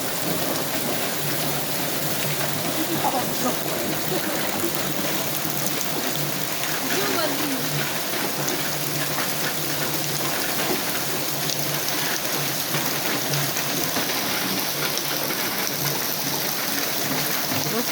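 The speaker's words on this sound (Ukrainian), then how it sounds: "Ось такий наш дощ." Dense, steady rain pours down without pause in a village garden, a broad hiss with patter on surfaces and faint background voices speaking Ukrainian.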